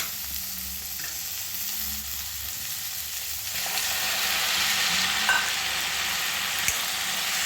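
Tomatoes frying in a pan for pineapple gojju, a steady sizzle that holds throughout and grows louder and denser partway through, with no voices.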